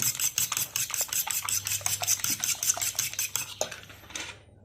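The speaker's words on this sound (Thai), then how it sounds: "ตีไข่ ตีไข่ให้แตก ละเอียดนิดนึง" A utensil briskly beats eggs in a bowl while mixing cake batter, with quick rhythmic clinks and scrapes against the bowl that slow and fade out at the end.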